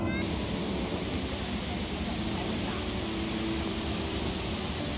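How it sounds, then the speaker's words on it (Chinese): Rushing water of the fast-flowing Duowang creek along a mountain trail near a hot spring area, a steady broadband roar that fills the whole clip at moderate loudness, with no one talking. "从这边我们可以听到多旺溪的流水声，非常湍急"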